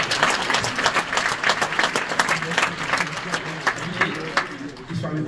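An audience at a film festival opening ceremony claps steadily for several seconds, a dense patter of many hands at a moderate distance.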